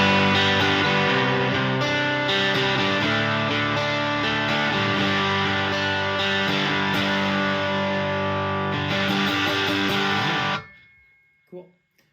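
An electric guitar strums sustained open chords through a ProCo Rat distortion pedal, thick and saturated, ringing loudly for about ten seconds before cutting off abruptly, followed by a brief faint pluck.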